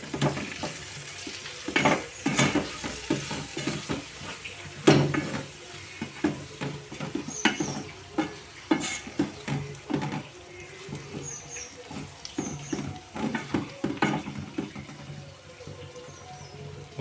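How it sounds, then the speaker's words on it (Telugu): Onions cooking in hot oil with a spoonful of chili powder for a village-style egg masala curry, stirred with repeated scraping strokes over a steady sizzle, close and moderately loud, with no talking. "ఆయిల్లో బాగా కుక్ అయినాయండి ఉల్లిపాయలు"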